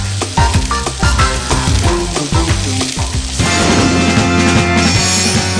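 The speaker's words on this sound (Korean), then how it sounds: "뜨겁게 달군 도기 그릇에 오리고기 반, 삼겹살 반 사이좋게 올리면" Smoked duck and pork belly sizzle loudly in a hot earthenware bowl, a close, crackling fry with rapid irregular pops throughout, and no talk over it.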